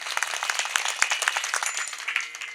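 An audience claps together at a Marathi devotional kirtan gathering beside the Godavari river: a dense, steady patter of many hands, moderately loud, with no voices.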